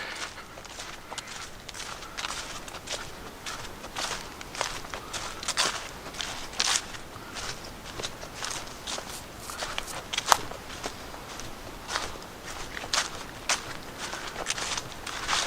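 Steady footsteps crunch along a woodland trail on a winter day at an even walking pace, close and fairly quiet, with faint background wind.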